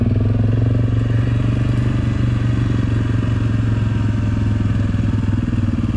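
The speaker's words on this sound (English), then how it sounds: "We're riding along the trail." An ATV engine drones loud and steady while riding along an off-road trail through fall woods, with a constant low throbbing rumble and rattling clatter throughout.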